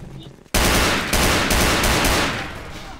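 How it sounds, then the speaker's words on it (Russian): Sudden, loud bursts of rapid automatic gunfire in the shooter video game Half-Life 2, Tray Mod, during a defense against Combine forces, starting after a brief quiet moment and continuing as dense, repeated volleys. "О, опять стрельба,"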